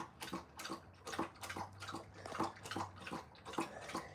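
A large dog, a chocolate lab and German pointer mix, laps from a big bowl of water in a quiet room, producing a rapid, regular series of soft wet laps.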